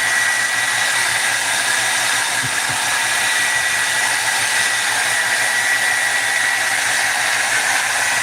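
A hair dryer blowing on a man's short hair makes a loud, constant, close whoosh that runs unbroken with no talk.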